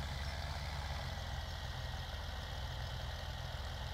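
In Farming Simulator 17, a tractor engine bogged down in mud drones at a steady, low idle-like rumble, even and unbroken, with no talk.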